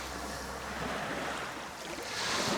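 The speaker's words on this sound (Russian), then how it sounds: "Водичка так классно плещется." Sea water splashing and lapping at the shore in Mariupol on a cold spring day, a steady broadband wash with light wind noise throughout and a slight swell near the end.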